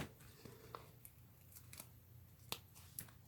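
Scissors snip through dimensional adhesive in a few quiet, sharp cuts spread irregularly over a few seconds, close and faint.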